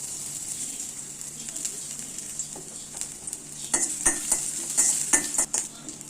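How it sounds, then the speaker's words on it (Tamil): Onion and garlic fry in a little oil in a pan, a soft continuous sizzle with occasional utensil clinks and stirring scrapes growing busier toward the end, with no talking. "அதில் எண்ணெய் ஊற்றி வெங்காயத்தையும் பூண்டும் வறுத்துக்கலாம்."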